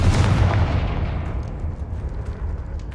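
A Confringo fire-blast spell in Hogwarts Legacy bursts as a loud, booming explosion that decays into a rumbling, crackling tail over a few seconds.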